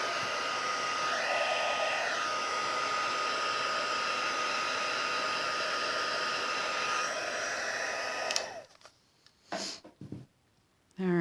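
A heat tool blows a steady, loud whoosh for about eight seconds while melting embossing powder on a stamped greeting card, then cuts off, leaving a few faint handling noises.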